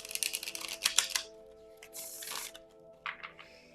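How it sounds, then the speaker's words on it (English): A deck of tarot cards given a couple of quick shuffles, crisp riffling bursts near the mic in two or three short runs with brief pauses between. "We give it just a couple little shuffles."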